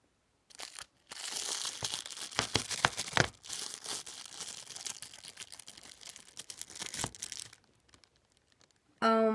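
Plastic film being peeled off a natto container: close, crinkly crackling and tearing in uneven bursts, with a short pause early on and a voice at the very end.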